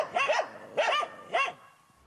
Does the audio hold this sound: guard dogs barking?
yes